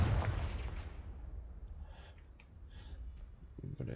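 A Confringo spell blast in Hogwarts Legacy lands as a loud booming burst at the start, then fades into a low rumbling tail with faint scattered game effects.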